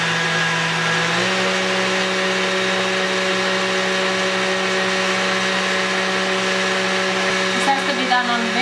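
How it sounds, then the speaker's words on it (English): A stand mixer with a whisk attachment whirs steadily while whisking egg whites for biscotti, a loud motor drone that shifts up in speed early on and carries on evenly to the end. "we place the whisk attachment to the machine and we are going to start whisking the whites"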